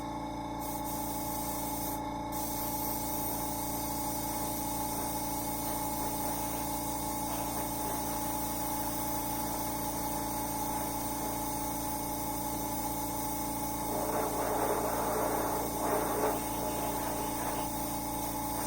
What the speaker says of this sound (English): just spraying it real, just covering it basically, covering the white that's there, and spraying beyond it too